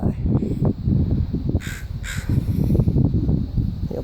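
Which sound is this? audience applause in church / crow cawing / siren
crow cawing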